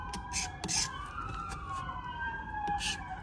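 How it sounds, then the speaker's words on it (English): Emergency vehicle sirens wail in the distance, their rising and falling tones steady under faint background noise and a few sharp knocks nearby. "sorry about the sirens in the background."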